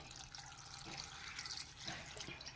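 Water pours into a cooking pot holding a prawn and ridge gourd curry with chilli and turmeric powder, a continuous close splashing flow lasting a couple of seconds.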